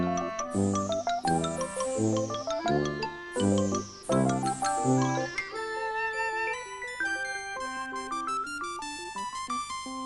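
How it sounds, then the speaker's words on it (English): Bright tinkling chimes and bell tones ring out in a festive descending melody over a steady musical backing, a sleigh-bell jingle sound in a Christmas children's programme, loud and continuous with no talk. "listen out for the sleigh bells, won't you?"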